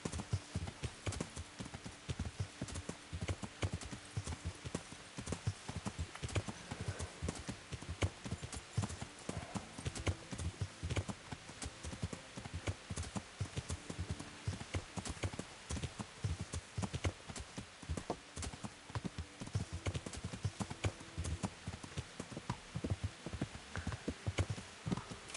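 Horse hooves clip-clop steadily in the medieval game Kingdom Come: Deliverance, a continuous close, rhythmic trot of beats lasting throughout with a brief whinny and faint background sounds.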